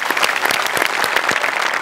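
An audience at a Marathi comedy show bursts into loud, close applause. Many hands clap in a dense, steady burst with no talk over it.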